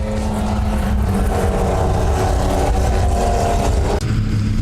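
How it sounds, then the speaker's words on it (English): A field of historic race cars, including a Porsche 911 RSR, accelerating off the start toward turn 1 on a wet track at Phakisa, a loud, dense, continuous engine roar close by. "The lights go out and the field gradually accelerates towards turn 1."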